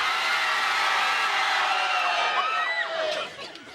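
A TV game show studio audience cheers and whoops as a dense, steady crowd roar that holds loud for about three seconds, with a few shrill whoops near the end before it begins to fade.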